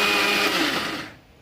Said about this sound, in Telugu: కొత్త మిక్సీ అయితే ఒకసారి ఆన్ చేసి చూద్దాం ఎలా వర్క్ చేస్తుందో